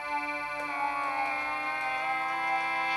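A prototype Harminator wind instrument sounds the same note on two sides at once, one pitch bent upward and the other downward, giving a steady sustained tone with shifting, beating harmonics, played alone and fairly close.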